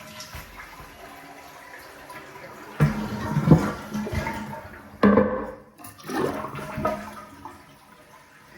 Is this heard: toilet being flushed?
yes